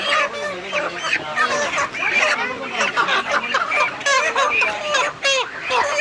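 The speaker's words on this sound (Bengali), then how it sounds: "এর পাশে দেখতে পাচ্ছেন যে অসংখ্য দেশি মুরগি আছে, মোরগ আছে।" Many desi chickens and roosters cluck and squawk together in a crowded night market, a loud, dense, continuous chorus of overlapping calls close by, with voices mingling in the background.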